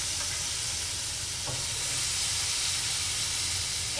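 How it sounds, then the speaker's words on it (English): Bacon fries in a pan with peppers nearby, producing a continuous, moderately loud hiss and crackle with a faint clink partway through. "I'm cooking this bacon"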